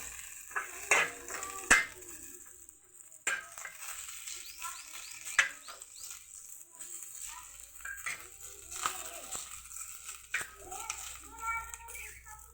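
Ingredients for a lentil sambar roasting in a pan while being stirred, with scattered metal scrapes and clinks of a spoon against cookware amid a low sizzle, voices talking faintly in the background.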